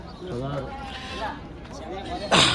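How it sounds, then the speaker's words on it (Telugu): Goats bleat in wavering, nasal cries, a couple of calls close by, amid a busy goat market background with a sudden rustling burst at the end. "అన్ని మేకలే పెద్ద సైజు మేకలే"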